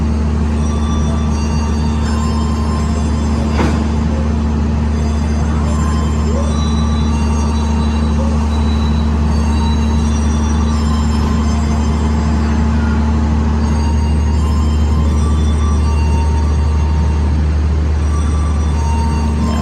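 Low steady rumble and hum of the Bima passenger train pulling out of Madiun station in Indonesia, a continuous loud drone with a faint clank partway through and no voices.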